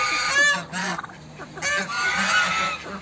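Geese honk loudly and repeatedly in a poultry yard near a chicken coop, a close, agitated chorus of overlapping calls.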